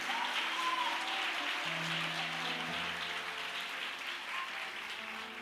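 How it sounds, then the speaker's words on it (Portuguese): A church congregation claps continuously for several seconds, a dense wash of applause with a low sustained musical tone underneath. "Aplauda Ele com verdade."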